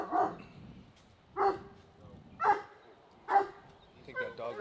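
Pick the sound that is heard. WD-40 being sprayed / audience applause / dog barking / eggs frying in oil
dog barking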